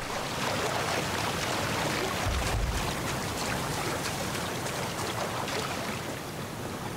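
A waterfall roars in the Star Wars Outlaws video game, a steady broadband rush of falling water that stays constant and fairly loud throughout with no talk.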